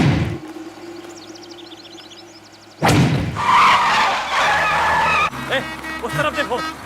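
A car brakes hard and skids to a stop in a Hindi-dubbed South Indian action film scene. A sudden loud tire screech bursts in after a quiet stretch, then fades into a rougher rumble.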